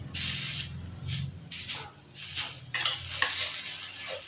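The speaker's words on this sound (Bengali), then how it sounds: "গুড়টা ভালো করে নারকেলের সাথে আমি মিশিয়ে নিব।" Jaggery and grated coconut are mixed in a wok for katla pitha, with rhythmic bursts of scraping and stirring strokes and a light sizzle, close and fairly quiet.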